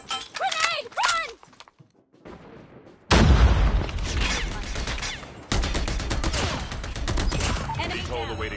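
A video game firefight: a shouted warning gives way to a loud grenade blast, followed by rapid bursts of gunfire that continue steadily, with radio-style voices talking over it.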